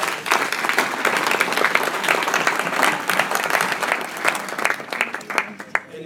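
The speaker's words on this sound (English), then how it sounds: "May you please give yourselves, everybody, a big round of applause." A dinner audience at a Thanksgiving awards ceremony applauds steadily, the dense clapping holding strong throughout and easing only slightly toward the end.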